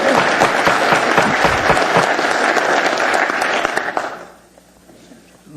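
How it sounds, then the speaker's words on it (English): A crowd at an assembly meeting breaks into loud, dense applause that carries on strongly for several seconds, then fades away into near quiet. "Ladies and gentlemen, I'm asking respectfully, please hold the applause."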